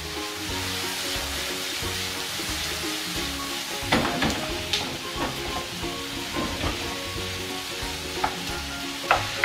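Garlic and green onion sizzling in a pan for Peruvian lomo saltado, with steady frying hiss and stirring scrapes; a few sharper utensil clicks near the end, no talking.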